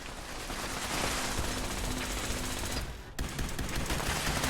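Sustained, dense weapon fire in Fallout 76 as turrets are shot down, a loud continuous rattle of rapid rounds with a brief break near the end before the shooting resumes.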